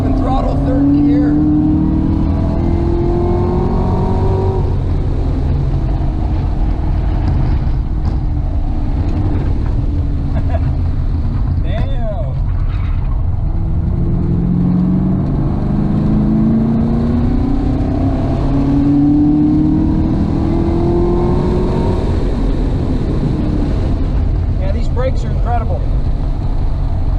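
A Camaro ZL1 1LE on the Hallett Raceway track at wide open throttle in third gear, engine loud and continuous with rising pitch sweeps as it pulls through the revs, heard from inside the car.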